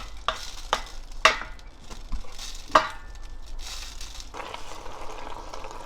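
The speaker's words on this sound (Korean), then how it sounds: "이제 도라지를 볶아야지." Bellflower root stir-frying in perilla oil in a pan, a soft continuous sizzle punctuated by several sharp clinks and scrapes of a utensil against the pan.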